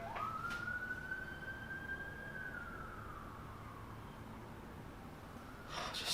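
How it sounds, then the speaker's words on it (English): An ambulance siren wails in a single long sweeping tone that rises, holds, then slowly falls, heard steadily over low background rumble for about six seconds. "What is Chloe doing in this damn ambulance, man?"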